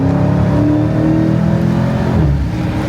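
A Dodge Hellcat pulls hard in second gear, its engine a loud, close, steady roar with a climbing drone. The pitch rises and then eases slightly toward the end.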